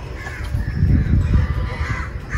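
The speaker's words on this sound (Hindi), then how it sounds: "डक्स हैं, कौवे हैं" Crows caw repeatedly at a park with ducks and cats, a series of harsh calls, fairly close and loud, with steady background noise and no talk.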